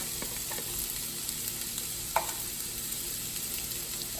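Onion frying in hot canola oil in a pan gives a faint, steady sizzle with a few small stirring clicks and no voices.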